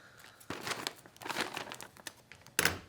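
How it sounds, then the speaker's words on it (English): Crisp crinkling and snipping sounds from sharp scissors come in a few short bursts, like blades cutting through plastic or paper, close and fairly quiet. "using scissors, very carefully, obviously sharp scissors, make sure that you're cutting away from yourself."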